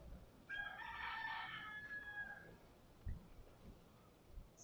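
A free-roaming rooster on the streets of Key West crows once, clearly but at moderate distance, followed by quieter ambient street noise.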